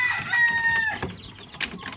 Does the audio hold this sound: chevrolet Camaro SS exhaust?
no